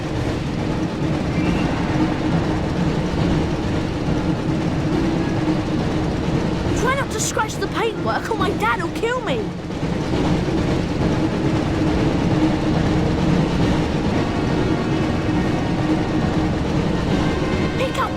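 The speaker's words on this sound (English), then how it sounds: "Looks like we found the train" A train rumbles along a track in the PS1 game Harry Potter and the Chamber of Secrets, a steady loud running noise for the full stretch while a voice talks over it in the middle.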